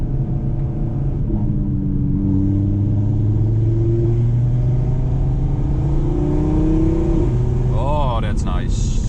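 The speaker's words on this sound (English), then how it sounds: "let's open the windows a bit for that lovely sound and put it in dynamic mode" Audi R8 V10 Plus engine in dynamic mode with a manual gearbox, heard from inside the cabin with the windows open: a loud, deep rumble whose pitch climbs and falls across several revs, with a brief higher whine near the end.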